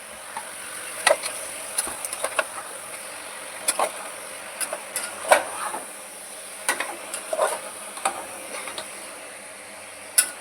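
Chicken sambar masala frying in a pan with salt and a pinch of turmeric, a soft steady sizzle under frequent scraping and stirring clicks of a spoon against the pan, close up with no talk.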